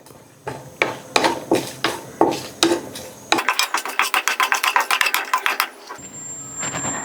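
Whole spices, peppercorns, cloves, bay leaves, star anise and a cinnamon piece, being sautéed in a pan, a metal spoon scraping and clanking in steady strokes that speed into a quick rattling run, close and loud, with no talking.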